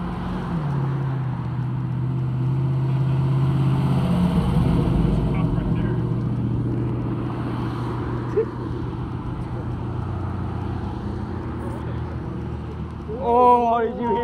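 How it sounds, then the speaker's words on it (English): A turbocharged Dodge SRT roars at a drag strip, its engine note rising and sustained from a moderate distance, while people talk over the steady rumble. "I don't know if it was a true Viper, but it was turbocharged"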